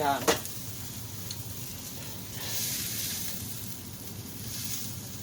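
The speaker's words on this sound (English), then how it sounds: "dip it all into the egg batter and then just fry two sides" An egg-battered Monte Cristo sandwich fries in a pan with a steady, close sizzle and hiss. A brief clatter comes at the start, then the frying swells slightly and carries on evenly.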